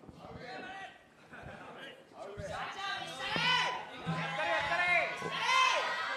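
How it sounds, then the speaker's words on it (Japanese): Crowd noise at a boxing event, DJ Shachō versus Keinosuke, swelling into cheers and whoops under a commentator's continuous talk, growing louder toward the end. "会場からは歓声が再び上がります"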